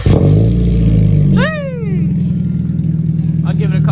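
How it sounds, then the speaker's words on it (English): A car engine tuned to shoot flames bursts into life on a cold-ish start, loud and close, then drops abruptly into a rough, lumpy idle. "Cold-ish start."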